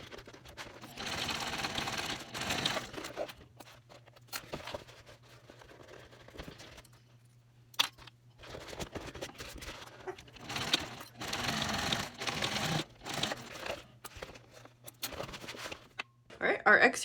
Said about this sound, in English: So I'm going to stitch here using a 1/4 inch seam allowance and then repeat that for this side.